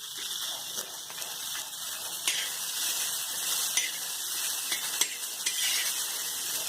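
Chickpeas and green chillies roasting in a pan, stirred with a utensil that scrapes and clinks now and then over a steady dry sizzle, close and moderately loud with no talking.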